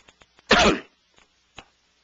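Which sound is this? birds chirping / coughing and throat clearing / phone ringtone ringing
coughing and throat clearing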